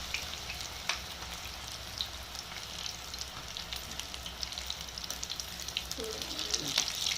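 Busy sizzling and crackling of battered chili fritters (mirchi bajji) frying in hot oil, a steady fizz with scattered pops throughout, close up and fairly quiet.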